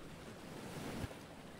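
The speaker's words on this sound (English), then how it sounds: "The water is calm." Calm water with gentle waves lapping in a 2D animated fantasy scene, a soft continuous wash of surf heard alone at low level.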